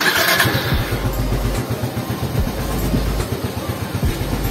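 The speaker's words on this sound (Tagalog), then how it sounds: "painitin natin yung engine" A 2021 Yamaha Mio i 125 S motorcycle engine idles while warming up, with a loud, rapid chugging pulse, revving slightly at moments, close up and steady throughout.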